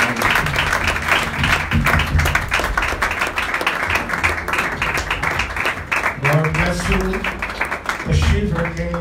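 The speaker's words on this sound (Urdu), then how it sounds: "آئے ہم یسوع کو اس کے کلام پر اس کے خادم کو بھرپور تالیوں کے ساتھ استقبال کریں." A church congregation claps loudly and steadily to welcome a preacher at a gospel service, many hands close by, with some musical tones and a murmur of voices rising under the clapping near the end.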